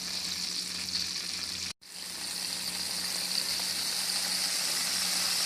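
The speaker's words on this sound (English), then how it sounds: "So right now, I'm going to put the marinated beef steak first, and then the rest will follow as well." Marinated beef steak sizzles loudly in butter on a hot grill pan, a dense steady frying hiss close up that breaks for an instant and then resumes stronger.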